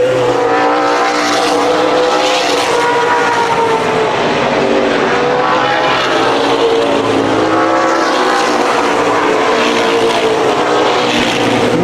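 Race cars lap the Columbus Motor Speedway oval in the main event, a steady loud engine roar with swelling Doppler passes as the cars sweep by close.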